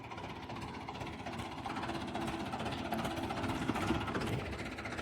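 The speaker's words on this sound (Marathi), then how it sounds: "तर आता ट्रॅक्टर चालूच आहे." A low, steady tractor engine drone idles continuously in the background, fairly quiet and unchanging, with no talking.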